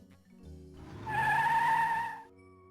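A cartoon car pulls away in Sam & Max Hit the Road, starting with a low engine rumble and swelling into a loud, tonal tire squeal that holds briefly before fading out.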